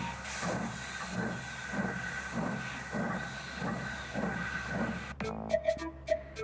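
A cartoon steam engine from Thomas and Friends puffs steadily in a rhythmic chuffing hiss, a few brief sharp notes breaking in near the end.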